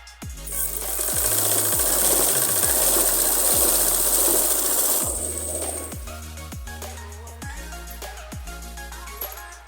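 A sewing machine runs continuously for about five seconds while stitching two pieces of cloth for a pahuncha design, then stops and restarts in short intermittent bursts, close and fairly loud.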